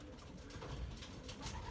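Pigeons being readied for training coo softly and continuously, their low murmuring calls fairly faint against steady background noise, with no talking.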